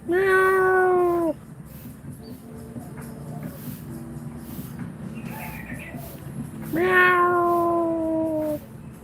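A human voice imitates a cat with two long, falling meows, one at the start and one near the end, beside a small cat in Bali. A quieter, rustling stretch lies between them.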